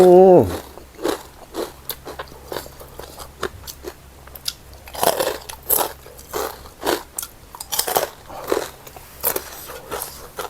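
Crispy pork cracklings being bitten and chewed up close, with loud repeated crunches in an uneven rhythm for several seconds while a voice talks intermittently.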